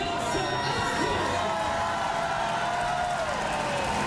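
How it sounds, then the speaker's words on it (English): A roadside crowd cheers and applauds as Lance Armstrong rolls down the start ramp of the 2009 Tour de France stage 1 time trial in Monaco, a dense, continuous roar with a commentator talking over it. "quite a round of applause as he went down that ramp"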